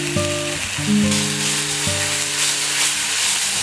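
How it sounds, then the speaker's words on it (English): Ginger garlic paste sautéing with cloves, cinnamon and other whole spices in a pan gives a close, steady frying sizzle with a hissy burst partway through, over low background music. "Now add 2 tablespoons of ginger garlic paste and saute briefly."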